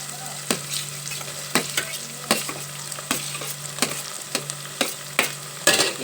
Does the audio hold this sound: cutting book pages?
no